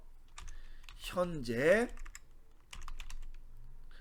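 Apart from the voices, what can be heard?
typing on a computer keyboard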